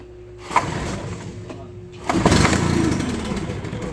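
A Stihl BR700 backpack blower with a newly replaced short block is pull-started on half choke. A recoil pull comes first, then the two-stroke engine catches and settles into a loud, steady run, with people talking nearby.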